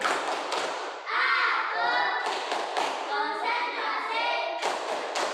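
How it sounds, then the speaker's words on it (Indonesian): A class of children claps the rhythmic 'tepuk konsentrasi' chant, loud unison voices with crisp clap accents falling in a steady pattern. "Tepuk konsentrasi."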